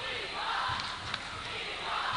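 A packed high school basketball crowd chants during an overtime game, a dense roar of voices filling the gym steadily with rhythmic surges.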